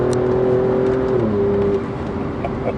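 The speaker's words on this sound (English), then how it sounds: "when you change up a gear, it kind of surges into the new gear." An Alfa Romeo Giulia Quadrifoglio in dynamic mode pulls hard from inside the cabin, a steady engine drone whose pitch drops as it shifts up a gear and surges on, loud and close.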